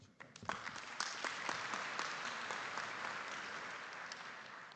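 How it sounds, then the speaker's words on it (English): An audience at the Africa Water Investment Summit in Cape Town breaks into applause, a sharp burst of clapping that swells quickly and holds steady, fairly distant in a large hall. "A round of applause."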